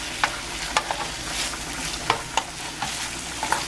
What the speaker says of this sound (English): I'm just going to stir this while it kind of cooks off a little bit more